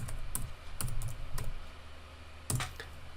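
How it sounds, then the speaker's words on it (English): Computer keyboard typing comes in short bursts of clicky keystrokes with pauses between them, close and fairly quiet. "excuse my typing"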